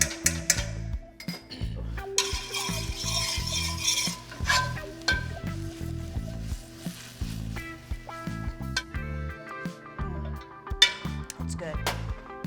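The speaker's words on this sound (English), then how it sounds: "we're gonna add the butter. We're gonna shake it to emulsify it." Pan shaken on the stove to emulsify butter into reduced stock for a wild turkey dish: repeated metallic scraping and sloshing with light clinks and sizzle, a person talking over it.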